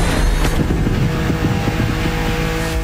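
A car engine in the racing game The Crew Motorfest revs loudly up close, with rhythmic pulsing as it accelerates, and no voices.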